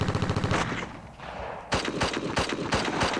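Rapid machine gun bursts from the World War 2 strategy game Steel Panthers ring out loud and close, a sustained stream of shots followed after a brief lull by sharp repeated volleys.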